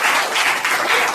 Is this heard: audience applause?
yes